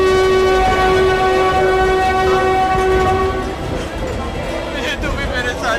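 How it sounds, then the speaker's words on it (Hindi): Jodhpur–Mumbai Express train departing a station: a loud, sustained horn blares for several seconds, then fades into rolling wagon rumble and rail clatter, with talk mixed in. "मुंबई जाने के लिए जोधपुर मुंबई एक्सप्रेस ट्रेन चलने वाली है।"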